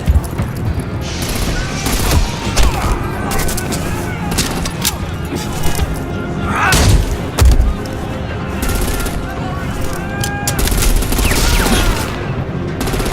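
Bursts of gunfire in the Batman: The Enemy Within video game, with rapid volleys and loud shots under shouting character voices and game effects throughout.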